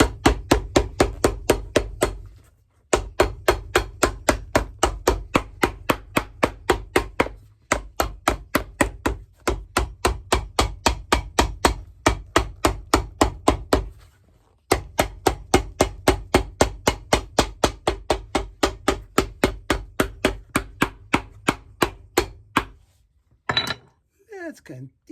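A hammer strikes the sole of a shell loafer in long runs of sharp, evenly spaced taps, repeated in several bursts separated by brief pauses, close and clear.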